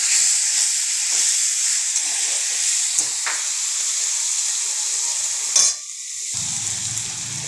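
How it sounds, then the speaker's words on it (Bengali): Dried red chillies fry in hot oil, making a steady, bright sizzling hiss that runs throughout. A brief louder crackle comes near the end before the sizzle settles down slightly. "এটা ভাজছি এইটা যখন ভাজা ভাজা হয়ে যাবে"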